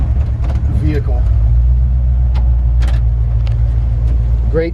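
A 1946 Ford half-ton antique truck idles steadily with a deep, even rumble through a brand-new exhaust, loud and close, while someone talks over it.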